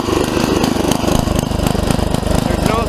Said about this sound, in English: Somebody said adjust the tiller because it's running rich